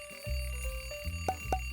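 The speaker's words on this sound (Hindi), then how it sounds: "अलार्म क्लॉक फिर बज रही है" A cartoon alarm clock rings with a bright, repeating electronic tone, its short beeps pulsing over a steady low hum and growing more insistent toward the end.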